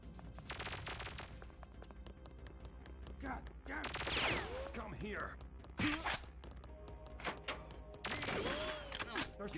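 Video game gunfire from a base assault with wind generators and elevators, sharp shots and bursts scattered across the stretch amid busy game noise and voice chatter.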